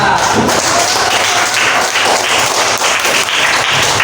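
A primary school class applauds Vanessa, a loud, close burst of many children clapping together in a classroom, continuous and uneven for about four seconds.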